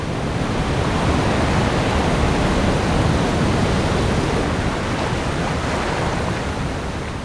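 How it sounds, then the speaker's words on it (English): The rain-swollen Tara River in Tara Canyon thrashes violently in a dense, loud, unbroken roar of rushing water, close and steady throughout with no voices. "The violent thrashing of water will continue until rain turns to snow."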